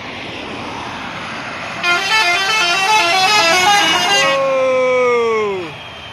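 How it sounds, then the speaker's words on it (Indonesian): A Padang–Jakarta intercity bus passes by on the road, sounding a loud, rapid musical multi-tone horn melody, then its pitch drops as it moves away, with engine and traffic noise underneath. "Bus Padang Jakarta lewat."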